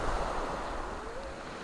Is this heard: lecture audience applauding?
no